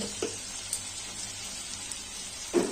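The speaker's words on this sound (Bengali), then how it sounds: "লঙ্কার গুঁড়ো দিয়ে এটাকে কষিয়ে নেব" Paneer frying in a pan with ginger-garlic paste, turmeric and cumin powder, giving a soft steady sizzle with a couple of brief stirring clatters near the start and end.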